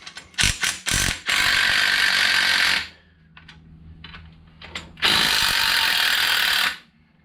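Shankly tubular coil spring compressor being released on a suspension strut: quick ratcheting clicks, then two long loud bursts of harsh mechanical whirring separated by a quieter stretch of light clatter, close by.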